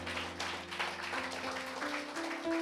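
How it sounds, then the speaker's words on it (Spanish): A congregation applauds during a church service, a soft and steady wash of clapping under sustained organ or keyboard tones. "Denle un aplauso al Señor."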